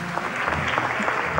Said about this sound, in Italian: Enrico Intra, fate a quest'uomo quel bel applauso